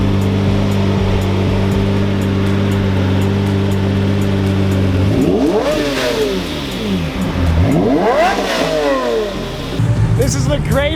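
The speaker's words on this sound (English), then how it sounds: "It's the LP670 Super Veloce. You just have to hear this V12." A Lamborghini LP670 Super Veloce V12 engine idles with a deep steady hum, then revs hard several times, each rev rising sharply and falling back, loud and close.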